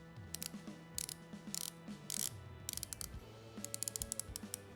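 Bronze Zelos Hammerhead V3 dive watch bezel turning: crisp, close ratcheting clicks in quick clustered runs, quiet and alone.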